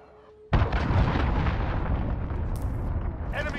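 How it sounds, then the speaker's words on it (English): Cruise missile explosion in Call of Duty multiplayer, a sudden loud deep blast after a quiet moment, followed by a long rumbling roar with faint distant crackle, no clear talking. "Enemy cruise missile incoming."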